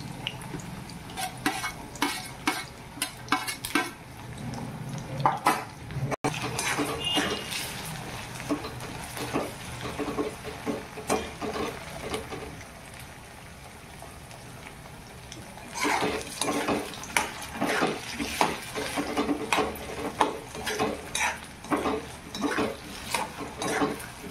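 Potatoes and carrots frying in a pan for mixed vegetable bhaji, with a steady sizzle broken by repeated scraping and clinking stirs of a spoon against the pan, close and moderately loud, with a short quieter stretch midway.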